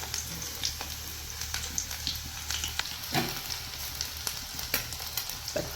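Small onions (shallots) fry in a hot pan, a close, steady sizzle broken by frequent sharp crackles and pops, with no talking.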